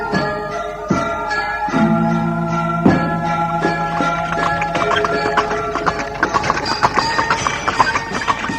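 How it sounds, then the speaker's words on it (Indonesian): A horse-drawn carriage rolls along as a radio drama effect, steady hoof clip-clops ringing out in an even, close rhythm over a droning bed of sound, with the clatter growing denser toward the end. "Kereta yang ditumpangi Nambi dan keluarganya kembali bergerak menjauhi gapura perbatasan kota Raja Majapahit."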